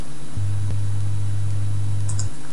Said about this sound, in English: Let's listen to see what 100 Hz sounds like.